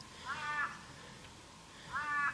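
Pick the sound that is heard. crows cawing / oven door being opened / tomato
crows cawing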